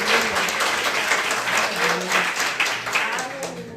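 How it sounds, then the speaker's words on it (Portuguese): Congregation applause in a Brazilian church service, a steady wash of many hands clapping together, fairly loud and continuous, with voices mixed faintly underneath. "Dê uma salva de palmas ao Senhor."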